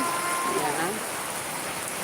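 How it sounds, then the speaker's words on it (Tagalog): Heavy rain pouring down outdoors, a dense, steady hiss of drops on surfaces filling the background while a voice speaks briefly over it near the start. "ni buhos man ang ulan"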